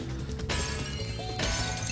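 A box breaking open in Spyro: Year of the Dragon (Reignited Trilogy), heard as two short cracking, shattering smashes in quick succession against a busy game background.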